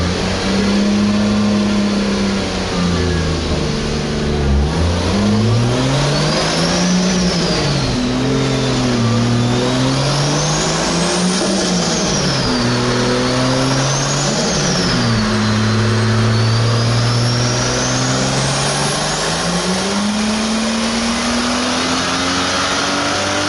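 A stock Toyota 2JZ-GTE VVTi engine with a Garrett GTX3076R Gen2 single turbo runs on a dyno, loud and continuous, its pitch climbing and dropping through several rev sweeps with turbo whine above.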